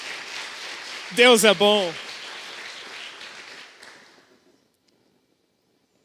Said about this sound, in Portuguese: Quem vive essa realidade pode aplaudir o nome do Senhor Jesus nessa noite